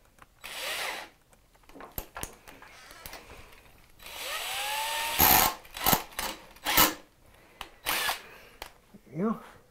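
Power drill countersinking a hole in wood: short whirring bursts of the drill biting, with pauses between them, close by, along with some handling noise and a brief rising whine.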